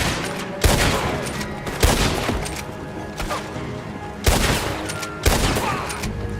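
Rapid gunfire in Red Dead Redemption 2, a few sharp loud shot bursts with ringing tails spread over several seconds, over a busy game soundscape with a little voice.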